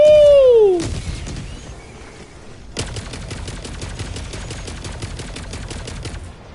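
In Helldivers 2, rapid automatic gunfire is aimed at bugs. A falling whistle comes first, then a long, fast, evenly spaced stream of close, loud shots.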